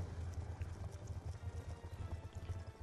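A horse in a Wii U video game gallops with a quiet, steady, rhythmic clopping of hooves under a soft background hum.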